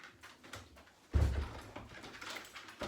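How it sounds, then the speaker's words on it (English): A back door is pushed shut with a solid thud, followed by fainter clicks and rattles of a lock being fastened, close by in a quiet evening setting. "back door is locked."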